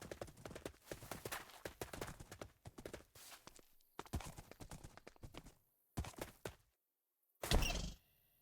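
Minecraft horse hooves clip-clop in quick irregular bursts, with gaps of silence and a short louder horse sound near the end, faint overall.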